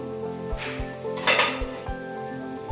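A metal lid lifted off a pan of mushroom pepper fry: a few soft clanks and knocks, then a brief swell of sizzling and clatter, close and with no talking.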